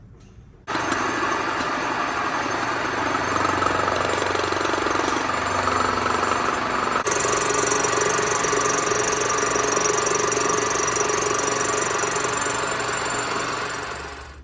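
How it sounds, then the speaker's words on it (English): Two-flute end mill cutting intake manifold runners for a vintage Harley flathead racer, a steady loud machining drone and whine running continuously for about fourteen seconds with a slight shift in tone midway. "I'm gonna go ahead and level these two runners with the end mill, cut back the 3-bolt flanges for the Linkert carburetors"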